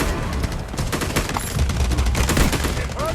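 Rapid bursts of gunfire in the Delta Force video game, dense overlapping shots and booms filling the mix with a steady loud battle din, with a voice briefly heard over it.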